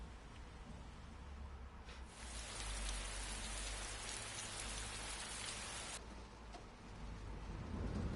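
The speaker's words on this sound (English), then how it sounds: "You hear it raining outside." Rain falling outside on a nighttime scene in the video game Persona 4 Golden, a continuous hiss of drops on surfaces that swells heavier for several seconds in the middle, then settles back to a softer, steady patter.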